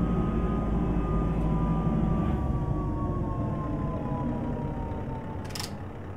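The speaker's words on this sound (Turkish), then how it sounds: "Evet, retarder sesimiz var." A steady, heavy engine drone with a slowly falling whine over it, continuous and loud: a Scania R420 truck's retarder braking in Euro Truck Simulator 2, with no one speaking.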